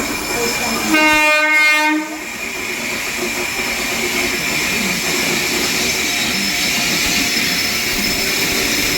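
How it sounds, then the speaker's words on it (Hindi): Train hauled by a WP7 locomotive arriving at platform 3 at Shakur Basti, New Delhi: a loud two-second horn blast sounds near the start, followed by a steady, heavy rumble of the passing train close by. "शकूर बस्ती न्यू दिल्ली रेलवे प्लेटफॉर्म क्रमांक 3 पर आ रही है। ट्रेन नंबर 64 हरिया भाई के साथ आ रही है, साथ ही WP7 भी लगे हुए हैं।"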